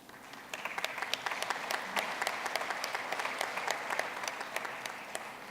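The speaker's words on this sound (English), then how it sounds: "there wasn't as loud of applause, but in my head it was a really, really loud applause" Applause from the audience at a doctoral commencement ceremony, dense and steady throughout with sharp individual claps standing out, moderately distant in a large hall, with no talking.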